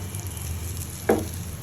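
Pieces of pointed gourd (potol) fry in oil in a nonstick pan, giving a continuous soft sizzle with one brief thump of a piece being moved, close and steady.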